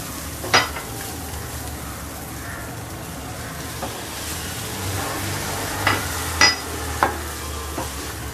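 Lemon rice being stirred and fried in a pan after lemon juice and salt go in, a steady low sizzle with a few sharp scrapes and clinks of the spoon against the pan, no talking.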